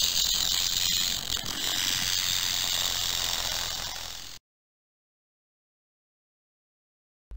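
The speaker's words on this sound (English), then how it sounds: "Rattlesnake." A rattlesnake shakes its tail in a dry, continuous buzzing rattle lasting about four seconds, fairly loud and close, then cuts off abruptly into silence.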